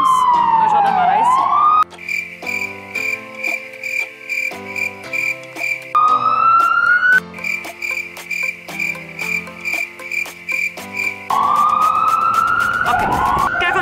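Loud ambulance siren on a New York street, wailing and yelping close by in rising sweeps and rapid pulsing bursts that dominate the whole stretch, with no one speaking.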